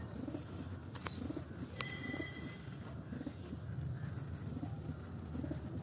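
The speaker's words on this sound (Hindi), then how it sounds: "ये सबसे जिद्दी कबूतर है ये।" Pigeons coo in a steady murmur on a rooftop over a busy outdoor background, with a couple of brief sharper chirps and clicks mixed in.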